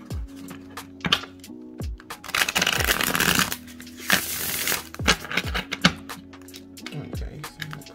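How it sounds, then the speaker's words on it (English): Tarot card deck from an animal-themed set being shuffled by hand, with repeated crisp riffling bursts and soft slaps of cards settling, close and fairly loud, with no talking during the shuffle. "They shuffle good now. Smooth. I love the way they shuffle."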